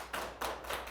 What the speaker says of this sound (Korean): 치우친 여러분들을 위해서 박수 한번 쳐볼까요?